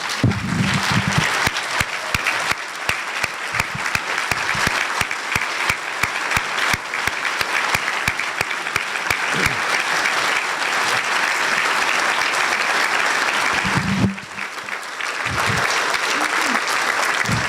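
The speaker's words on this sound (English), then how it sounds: "please stand and clap for the men and women of Seattle Fire" Rotary luncheon audience giving a long standing ovation for Seattle Fire Department firefighters at an awards event, dense sustained clapping that briefly dips near the end, with some voices mixed in.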